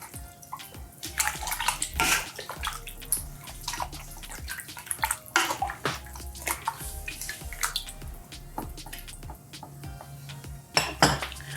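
Water pours and splashes into a pot of chicken and vegetables in a home kitchen, with bursts of clinking and clattering from the pot and utensils, all close and fairly loud.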